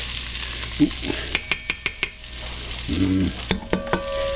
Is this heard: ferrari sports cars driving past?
no